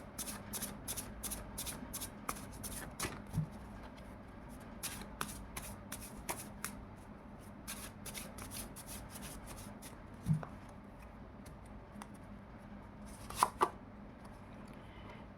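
Tarot cards being shuffled in soft, quick riffling bursts, with crisp little card clicks and taps spread across a quiet room, close and fairly faint throughout.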